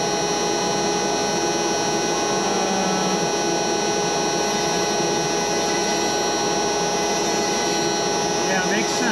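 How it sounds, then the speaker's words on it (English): A CNC router cuts a pocket toolpath, a loud continuous high-pitched whine with steady tonal bands running unbroken throughout, close and dominant. "cutting the first pocket."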